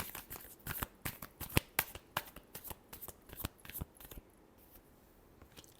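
Tarot cards are shuffled in quick, crisp riffles and snaps up close, a dense run of sharp flicks that thins out toward the end, with no talk over it.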